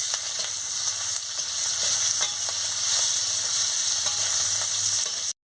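Capsicum frying in a pan in a home village kitchen, a steady close sizzle running unbroken with faint scrapes of stirring, then cutting off abruptly near the end.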